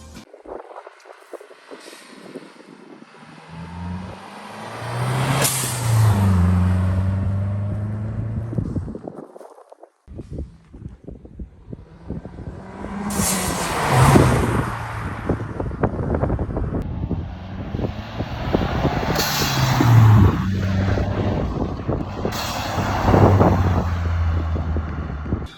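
A Mazdaspeed 3 fitted with a Turbosmart 50/50 dual-port blow-off valve accelerates and shifts, with loud engine surges and wind rush rising and falling over several pulls.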